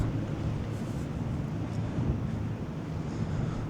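Wind blows near the River Mersey at the Royal Albert Dock waterfront in Liverpool, a steady low roar buffeting the microphone throughout, with no other distinct sounds standing out.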